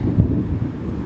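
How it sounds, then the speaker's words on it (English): Thunder rolls outdoors during a Nissan Rogue A/C clutch repair, a steady low rumble lasting the full second with a slight swell near the start and no voices. "excuse the thunder"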